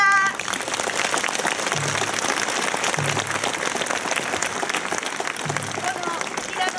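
Audience applause after an Onagawa Shiosai taiko drum performance at a mountain venue in Hida, a dense steady wash of many hands clapping throughout, with faint voices mixed in under it.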